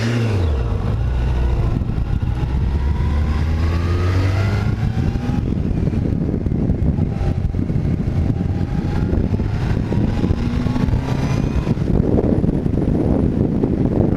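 Wind roars steadily over a Yamaha FJR 1300 touring motorcycle with a touring windshield at about 47 mph, a loud continuous rush with the engine droning underneath and no talk.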